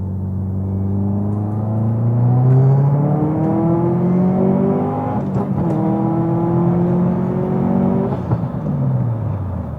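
A Subaru STI fitted with a Blouch turbo accelerates hard up a highway on-ramp, its engine note climbing steadily through the gears in one loud, close, continuous pull with brief shift breaks.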